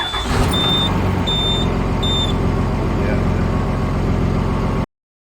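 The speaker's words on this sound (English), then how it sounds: "Let's see if this bus starts." A bus engine starts and rumbles loudly and steadily close by, with a few high electronic beeps sounding early on, then it cuts off abruptly.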